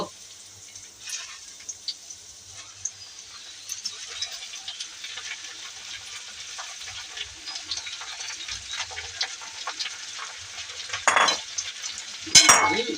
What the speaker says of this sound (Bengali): পেঁয়াজ, কাঁচামরিচ, রসুন এগুলো আমার ভাজা শেষ হয়েছে, এখন পুঁই শাক ছেড়ে দেব।